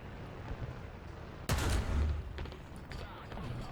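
A tank gun fires once in the War Thunder video game, a sharp booming blast midway that rolls off over low background battle noise, with a voice speaking quietly.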